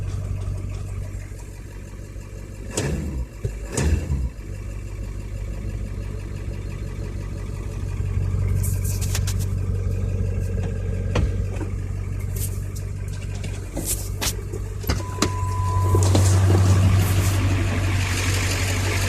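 A Ford 7.3 Powerstroke diesel idles steadily after a cold start, with a low continuous rumble, a few sharp mechanical clacks early on, and the idle swelling slightly louder near the end.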